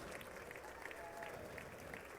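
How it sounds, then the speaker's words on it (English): Faint, steady applause from a large audience at a presidential address to Congress, a distant, even wash of clapping with no break. "The worst part about this whole thing is the clapping."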